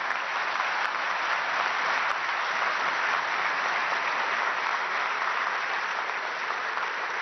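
Steady applause from a large audience at a business association address, dense and even for about seven seconds with no voices on top.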